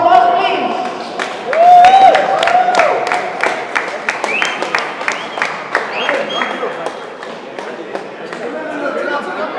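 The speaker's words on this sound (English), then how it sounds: "Big round of applause, please." Audience applause at a squash tournament award function: a dense wash of clapping hands with scattered sharp claps, steady through the stretch, mixed with crowd chatter and a voice speaking over it.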